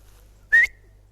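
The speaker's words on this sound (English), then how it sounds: "What the hell that dog's doing?" Dog giving one brief, high, thin whine that lasts a fraction of a second against a quiet background, with no talk.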